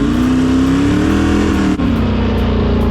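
A four-wheeler ATV engine drones loudly and steadily at close range, rising slightly in pitch, with a brief dip near the middle. No one speaks.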